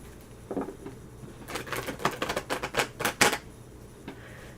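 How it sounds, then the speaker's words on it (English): Tarot cards being shuffled by hand: a quiet single riffle at first, then a dense run of crisp, papery flutters and taps at close range with no talking. "I'll shuffle."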